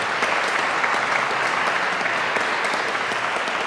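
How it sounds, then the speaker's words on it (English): An audience at a classical guitar concert bursts into sustained applause: a loud, dense, even wash of many hands clapping that holds steady from start to finish. "Another round of applause."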